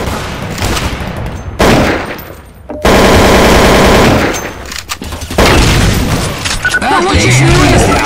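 Heavy automatic gunfire and booming blasts in Counter-Strike: Source, loud overlapping volleys and fusillades with brief lulls, dense and close, with a voice speaking over the fighting.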